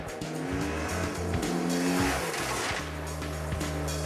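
A police training motorcycle at CHP motor school accelerates with engine pitch climbing through the gears and then brakes hard with front and rear brakes, the revs dropping away, loud and close throughout.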